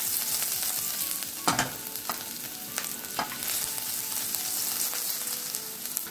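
Ginger fries for a Sri Lankan bitter gourd dish, a close continuous sizzle crossed by several sharp scraping stirs.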